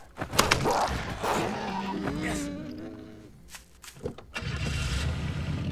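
A motorcycle engine starts up in the video game Night of the Dead, cranking and catching into a rising mechanical whine before settling, close and fairly loud among other game noises.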